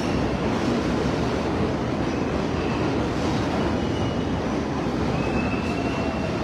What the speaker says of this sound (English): train do dey.